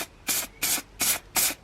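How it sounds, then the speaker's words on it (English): A spray can applies primer to Subaru Impreza STI engine bay parts in four short, evenly spaced hissing bursts, close and loud, with brief quiet gaps between. "let me spray this up a little bit"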